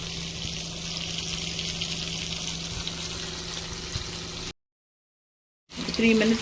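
Prawns frying in a pan send up a steady, close sizzling hiss that stops abruptly for about a second before the sizzle resumes.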